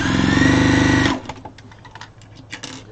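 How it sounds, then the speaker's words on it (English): A sewing machine stitches fabric scraps together in one fast, loud, buzzing run that stops after about a second, followed by faint clicks and handling noises. "Let's sew this together."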